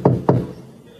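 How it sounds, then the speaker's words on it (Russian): Two heavy thuds hit an apartment door from outside as someone yanks at the handle, close and loud, followed by a quiet resonant tail. "Дергает ручку двери."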